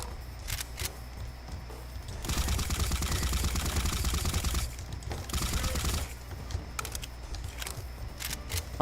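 Gunfire in the video game Ancient Warfare 3: scattered single shots crack at first, then a sustained rattling burst of rapid automatic fire runs for about three seconds, followed by more intermittent shots.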